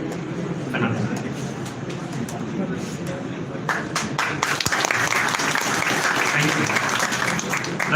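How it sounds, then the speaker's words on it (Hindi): Applause from a seminar audience, a sustained wash of many hands clapping that swells louder partway through and continues steadily, with some talk in the room beneath it. "इनके लिए भी एक बार जोरदार ताली हो जाए।"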